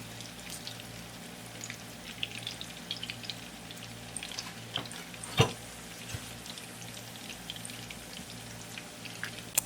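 Mutton gola kababs frying in hot oil over a medium-high flame: a steady, fairly quiet crackling sizzle with fine popping throughout and one brief sharp spatter.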